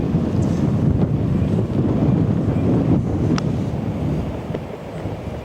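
Strong wind sweeping across an open golf course, a constant loud buffeting rush battering the microphone with low roaring gusts, steady throughout and easing slightly near the end.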